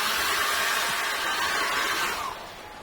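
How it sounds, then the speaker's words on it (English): A steady broadband blowing rush, like a hair dryer running continuously nearby, easing slightly quieter near the end. "I'm going to dry that off with a hairdryer."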